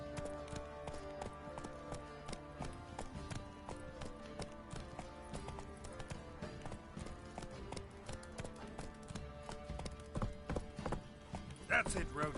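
Horse Roach's hooves clip-clop in a steady running rhythm in a video game, layered with busy game sounds and someone talking over them.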